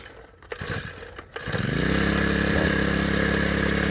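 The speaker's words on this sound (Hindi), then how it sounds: "पेट्रोल डलते ही दूसरी किक पर मशीन जो है ना वो स्टार्ट हो गई" A petrol fodder-cutting machine engine catches on the second kick after some clattering, then settles into a loud, steady running drone.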